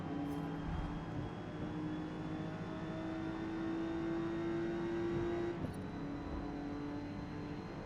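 A BMW M1 race car's engine in Forza Motorsport, droning at a sustained rising pitch as it pulls along a straight in a C Class race, then briefly dips at a gear change before carrying on steadily.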